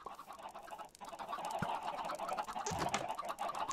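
Turkeys, the in-game chickens of a Minecraft auto-turkey farm, cluck in a steady murmur of overlapping calls with a couple of sharper bursts near the end, moderately loud and without talk.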